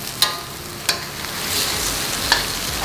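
Vegetables for capcay stir-fry in a pan with a steady sizzle, punctuated by a few clinks of a spatula scraping the metal, close and without voices.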